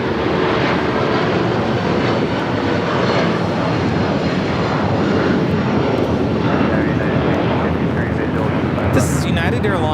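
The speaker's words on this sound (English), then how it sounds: "This is United Airlines 1621 taking off to Orlando on the 757-200." A United Airlines Boeing 757-200 takes off from LAX, a dense, loud engine roar holding steady throughout with a brief sharp burst of noise near the end.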